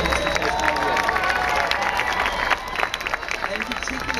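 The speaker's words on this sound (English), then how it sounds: "A huge round of applause in Tasmania" Large outdoor crowd at a marriage equality rally in Sydney claps and cheers loudly and steadily, the dense applause thinning slightly toward the end, with a murmur of voices underneath.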